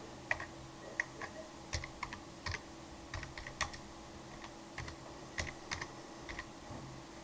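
Keys clack on a computer keyboard as a search term is typed into a PC's search bar, a close run of quick, uneven taps with short pauses, alone.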